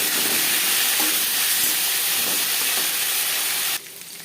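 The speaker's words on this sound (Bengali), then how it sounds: "5 ফোড়ন, তেজপাতা ভেজে নেওয়ার পর দিয়ে দেবো আলু।" Potatoes fry in a small amount of oil with bay leaves and five-spice seeds for a rohu fish curry, giving a loud, steady, close hiss that cuts off suddenly to near quiet just before the end.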